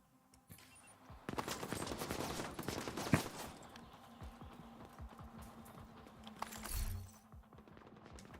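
Gunfire in the video game The Division: dense, rapid automatic bursts crackle almost continuously for several seconds, with a few sharper single cracks and a brief lull near the end.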